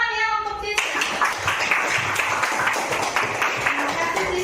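Classroom of students clapping for a classmate in an Indonesian school lesson, scattered hand claps starting abruptly after a brief tone, with children's voices chattering underneath.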